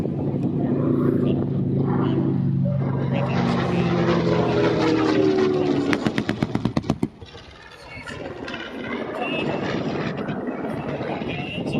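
A PBJ bomber passes at an airshow, its propeller engines droning loud and steady for several seconds before a burst of sharp popping cracks, with a milder engine rumble continuing after.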